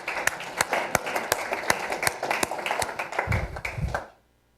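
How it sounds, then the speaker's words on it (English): A crowd applauds steadily with many overlapping claps for about four seconds, then the clapping stops abruptly into silence. "I'd like to give a round of applause to the executive team."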